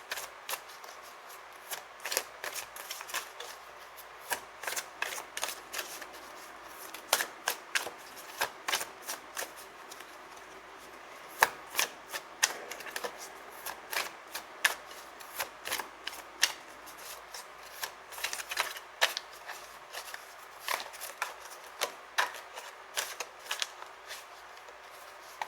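Tarot cards from the Vision Quest deck being shuffled, giving repeated crisp riffling bursts in an irregular rhythm, close by and moderately loud, with no voices.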